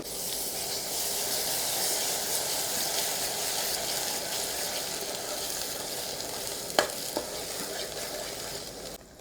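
Gongura paste frying with tomatoes in a pan for an egg curry, with a steady hissing sizzle throughout and a couple of sharp knocks from the stirring spoon near the end.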